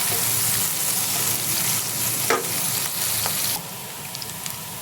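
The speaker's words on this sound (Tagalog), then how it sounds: "So, guys, start na po tayong maggisa. Bawang, sibuyas, mantika at konting margarine." Garlic and onion sautéing in cooking oil with a little margarine for beef broccoli, a loud, dense, steady sizzle close up with a couple of stirring scrapes, dropping to a quieter hiss near the end.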